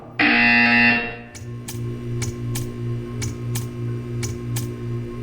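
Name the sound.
buzzer in Portal 2 video game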